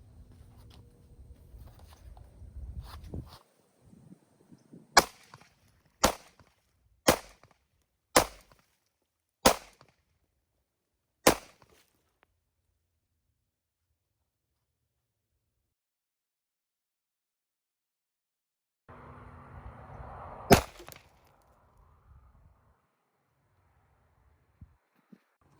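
Six sharp reports from a Sig P365 XL pistol firing at a target, evenly spaced about a second apart, distant and crisp, then quiet, with a later rustle and one more crack.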